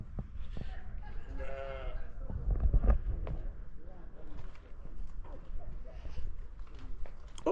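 Several sheep bleat at intervals, some with odd, strained cries, amid a low outdoor rumble and faint movement.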